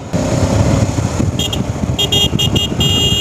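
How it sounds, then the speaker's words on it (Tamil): A KTM Adventure motorcycle horn honks in several short bursts over steady engine and road noise, close by and fairly loud. "ஹாரன் சொல்ல பாருங்க, ஒரு டீசெண்டான ஹாரன் தான்."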